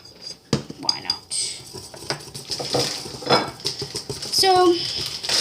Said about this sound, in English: so I'm going to stir this up